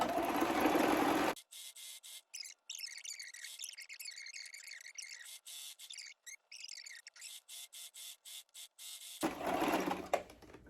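A sewing machine stitching a shalwar runs in several bursts of rapid mechanical clatter, broken by brief pauses, close and moderately loud, with louder handling noise at the start and end.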